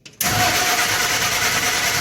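A car engine cranks briefly and catches after an alternator repair, quickly settling into a steady, close idle that continues to the end.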